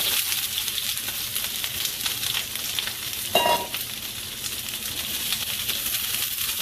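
Sliced peppers and onions sizzle and fry in a pan on the stove, a steady close crackle with a brief clink of a utensil partway through.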